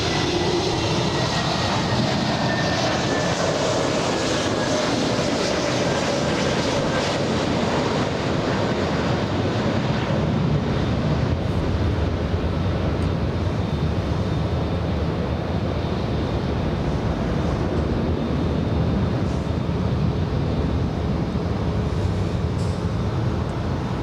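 An Airbus A321neo airliner arriving at Los Angeles International Airport from Minneapolis, a continuous broad engine roar mixed with wind rumble, steady and unbroken throughout with no voices.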